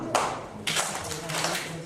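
Bursts of group hand clapping along with a sung children's song at a kids' competition game, claps arriving in short rhythmic clusters under singing voices.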